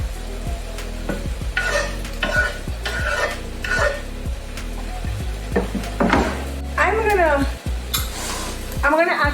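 Celery, tomatoes and onion sautéing in a pan for stuffed bell peppers, loud close sizzling punctuated by frequent rhythmic scrapes and clanks of a utensil against the pan, with some faint background noise.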